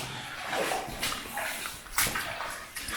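Rubber boots wading through deep water in an abandoned mine, with repeated sloshing splashes at an uneven walking rhythm, close and fairly loud in an echoing space.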